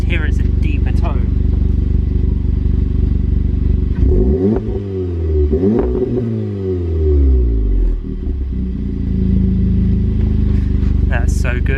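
A 2.0 turbo four-cylinder in an Audi S3/Golf R with an AWE SwitchPath exhaust, valve open, idles loudly then revs up twice in rising and falling sweeps, close and deep-toned, with a voice heard briefly.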